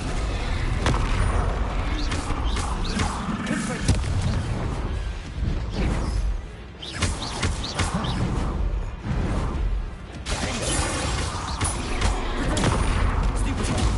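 Magic spell blasts in Hogwarts Legacy go off in quick succession, a dense run of whooshing bursts and booming impacts layered over a steady roar, with a voice calling out incantations between them.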